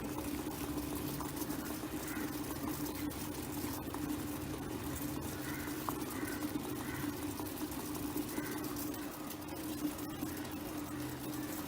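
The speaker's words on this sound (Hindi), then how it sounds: "अब देख सकते हैं ये उबल रहा है" Water boiling in a pot on the stove for tea, a steady continuous bubbling and rolling simmer heard close up and alone for the whole stretch.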